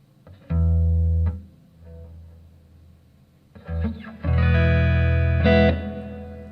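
Electric guitar played through a Fender Super Champ X2 amp with reverb added, chords ringing with a reverberant wash and slight grit, a short burst, a pause, then longer sustained strumming.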